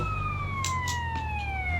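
Ambulance siren in GTA San Andreas wailing steadily, a clear rising tone sounding close and continuous, with faint traffic rumble beneath and no talk.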